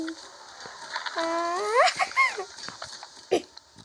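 A dog whimpers close by in a run of high, rising whines that climb and waver, then trail off, with a voice faintly in the background.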